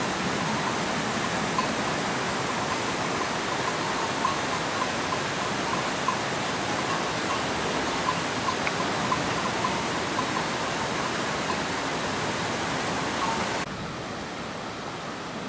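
A small waterfall in Lauterbrunnen, Switzerland rushes in a dense, continuous roar, steady and close for the whole stretch, dropping slightly in level near the end, with no voices.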